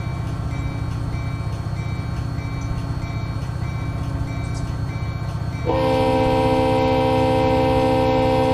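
A CSX freight train in the Run 8 Train Simulator game rumbles along with a steady low engine hum and rail noise, then a loud sustained horn blast comes in partway through and holds to the end.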